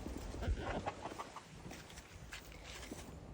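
Backyard chickens, two Easter egger hens and a rooster, cluck and shuffle faintly in a low, noisy outdoor scene, with scattered soft calls and no clear crow.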